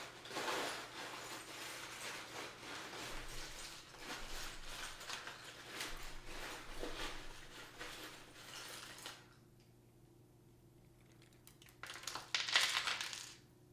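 A set of small metal charms shuffled, a sustained jangling clatter of tinkling pieces for several seconds, a brief pause, then another short burst of clinking, close and alone.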